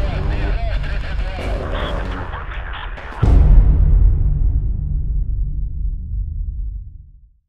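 Gunfire in the Escape From Tarkov shooter game: a single heavy, close shot booms out partway through and rolls off into a long fading tail, with voices talking over the scene beforehand.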